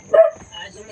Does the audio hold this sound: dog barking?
yes